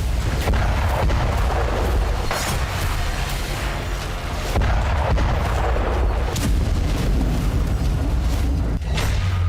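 Kinzhal missile strikes on Kyiv, heard as a continuous loud rumble of explosions and booms with repeated sharp blasts through the whole stretch, and no voices.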